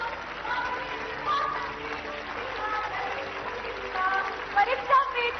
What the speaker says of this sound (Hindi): तालियों की जोरदार गड़गड़ाहट।